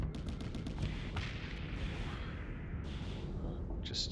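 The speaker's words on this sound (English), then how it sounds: "I'm launching a whole ton of missiles and I hope to overwhelm it." Missiles launching in rapid succession from a ship in the space game Starsector, a quick series of sharp bursts at the start over a dense, steady rumble of combat noise, followed by hissing whooshes.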